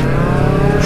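A Honda CBR motorcycle pulls a wheelie at a Sunday group ride, its engine screaming at high revs close by, loud and continuous.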